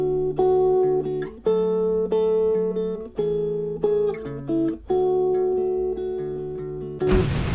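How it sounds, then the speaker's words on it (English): A clean, plucked guitar melody plays alone, notes ringing in a slow, melancholy phrase before ending in a brief burst of noise. "we're going to start with this guitar melody, which sounds like this"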